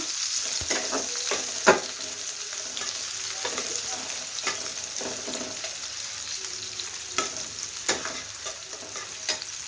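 Chopped onion hitting hot oil for a fish-head curry, a continuous close hiss of frying with sharp crackles and spatula scrapes scattered throughout, no voices.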